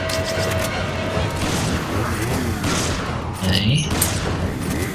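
A grenade explosion during Resident Evil 5 online co-op play, a dull boom inside dense ongoing combat noise and gunfire, with people talking over the action.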